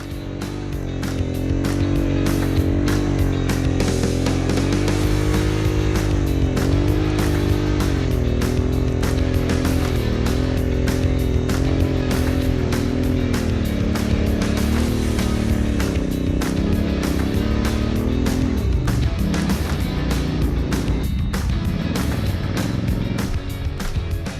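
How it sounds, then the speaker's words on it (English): A motorcycle being wrestled up a sand dune on an adventure ride, its engine a loud, continuous drone that rises and falls in pitch as the rider works the throttle. "Wrestling the bike up the dune again."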